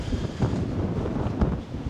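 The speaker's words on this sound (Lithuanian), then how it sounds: "Eina savo, kaip čia vėjas pučia." Strong wind on the Isle of Wight buffets the microphone in a continuous low rumble, with gusts swelling and fading; no one speaks.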